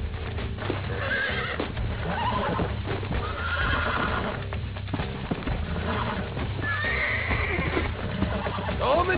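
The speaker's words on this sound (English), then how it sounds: "These are fine horses." Horses in the video game Red Dead Redemption neigh and whinny repeatedly over the steady clip-clop of hooves. The sounds are close and fairly loud, with game music running underneath.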